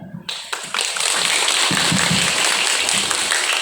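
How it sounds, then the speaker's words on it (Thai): A crowd at a rice and drinking-water donation event at a Thai subdistrict office breaks into loud, sustained applause after a short burst of sound at the start, holding a thick, even wash of clapping to the end. "ขอเสียงปรบมือดังๆ ให้กำลังใจท่านประธานก็ คณะสักครั้งครับ"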